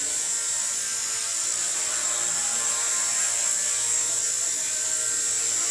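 An XK RC collective pitch helicopter hovers close by with a constant high-pitched rotor whine and motor buzz, steady and unbroken throughout.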